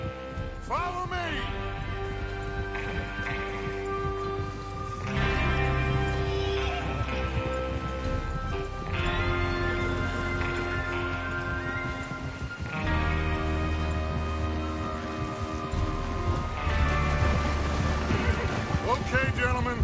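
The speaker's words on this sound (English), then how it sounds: "Get your horses ready." Horses whinny and hooves clip-clop in the video game Red Dead Redemption 2, mixed with music and voices, several neighs rising over a busy, steady bed of sound.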